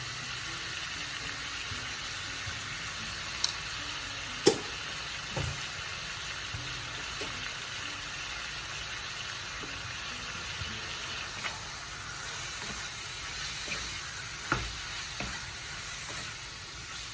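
Pork and glass noodles for Zamboanga-style pancit sotanghon sizzle steadily in a hot pan with a little salt, a constant frying hiss running throughout, broken by a few sharp pops and light ticks.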